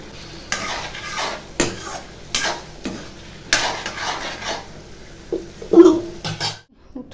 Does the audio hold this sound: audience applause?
no